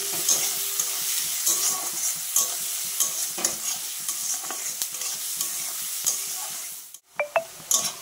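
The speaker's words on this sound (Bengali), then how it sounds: "দেখো পেঁয়াজটা ভাজা হয়ে গেছে।" Onions fry with a pinch of salt in a pan, giving a steady close sizzle broken by repeated scraping stirs of a spatula, then a brief pause and a few sharp clinks at the end.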